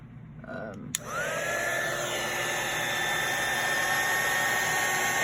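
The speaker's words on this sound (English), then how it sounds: "you put your heat gun on it like so" A heat gun melting crystals on a charm for spine jewelry switches on with a sharp click, then gives a loud, steady blowing whine that rises in pitch as it spins up and keeps running close by.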